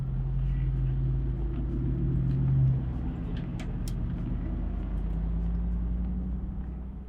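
A Mercedes supercar, either an SLR or an SLS, drives past with a steady low engine rumble and road noise that swells briefly and then settles into a continuous drone for several seconds.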